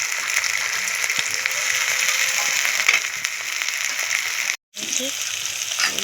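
Chopped tomato and green chilies fry in a hot pan with a bright, continuous sizzling hiss and scattered crackles. The sizzle cuts out for a brief instant before resuming.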